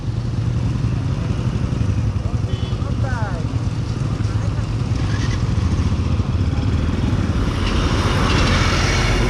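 Motorcycles gather for a group forest ride, their engines rumbling and idling together in a steady, loud drone with the occasional rev and clatter, as people talk nearby.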